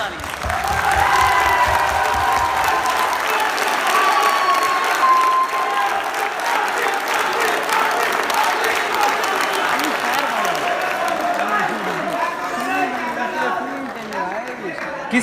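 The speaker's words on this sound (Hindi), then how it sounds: "यार आपके लिए भरपूर ताली।" Audience at a mushaira poetry recital applauding loudly and continuously, with cheers and chatter mixed into the sustained clapping that eases slightly near the end.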